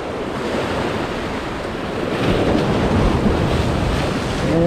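Rough, high sea surf crashes and washes against a rocky shore during Spanish mackerel shore jigging in Israel, a loud continuous roar of breaking waves mixed with wind buffeting the microphone.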